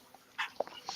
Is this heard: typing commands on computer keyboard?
no